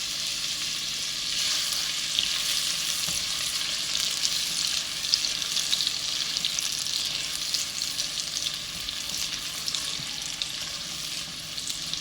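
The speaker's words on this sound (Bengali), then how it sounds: "পেঁয়াজটা একটু আমরা বাদামি করে ভেজে নেব" Chopped onions frying in ghee until brown give a steady, dense sizzle with faint crackles throughout, close and even, with no voices.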